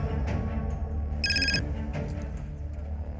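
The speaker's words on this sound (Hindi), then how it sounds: "साहब 11 तारीख की दोपहर को मेरी बहन का फिर से फोन आया।" Telephone ringing briefly in an indoor dramatized scene, a short electronic trill over a low background hum.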